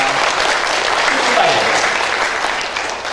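Audience applauding at a vocational health school graduation ceremony in Pamekasan, a dense steady wash of clapping that holds loud and gradually tapers near the end.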